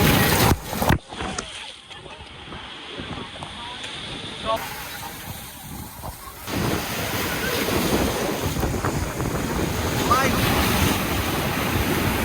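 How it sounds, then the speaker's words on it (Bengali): Rough sea surf at Patenga beach, roaring broadband waves with strong wind buffeting the microphone, building louder and steadier in the second half, with brief voices early on. "তোমরা দেখেন সমুদ্রে কি উত্তাল"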